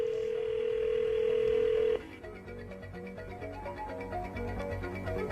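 Telephone call being placed: a steady, loud tone holds for about two seconds, then cuts to quieter ringing and dialing tones that repeat until the end.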